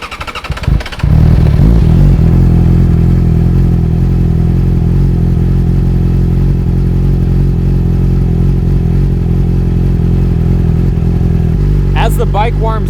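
A Yamaha R6 sport bike's engine fires up after a brief crank and settles into a steady, loud idle as it warms, with a short spoken remark near the end.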